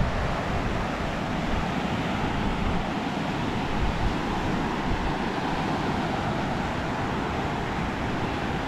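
Strong waves break on a shore with muddy, brown-colored water, producing a loud, steady roar of surf mixed with wind buffeting close to the microphone, with no voices.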